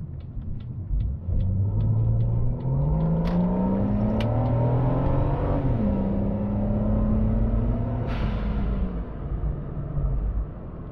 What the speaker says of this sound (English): She goes well, sounds magnificent, I think. Lovely sounding engine. Properly gruff.